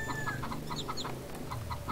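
Chickens clucking in the farm video game Harvest Moon: Save the Homeland, short rhythmic game-sound clucks repeating steadily over a continuous background music loop.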